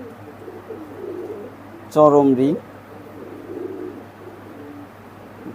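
A single short, resonant coo from a female high-flying pigeon sounds close by over a quiet background, with someone talking around it.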